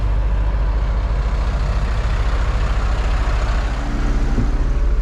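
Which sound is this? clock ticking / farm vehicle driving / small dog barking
farm vehicle driving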